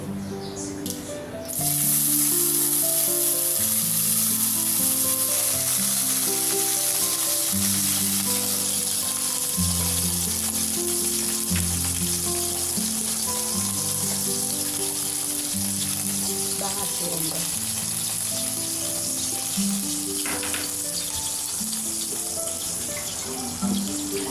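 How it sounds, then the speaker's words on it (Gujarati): Cumin seeds sizzle in hot oil while Green Undhiyu is being made, a loud, constant crackling hiss that lasts throughout, with a low droning hum running underneath. "એની અંદર આપણે થોડું જીરું નાખ્યું. જેમ જ જીરું તતે"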